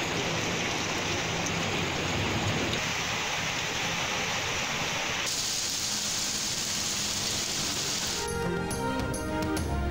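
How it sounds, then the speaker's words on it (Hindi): Heavy monsoon rain pours down across Islamabad and cities in Punjab. A dense, steady roar of rainfall fills the whole stretch, and the tone shifts partway through, as if the scene changes. "इस्लामाबाद और पंजाब के मुख्तलिफ शहरों में मूसलाधार बारिश।"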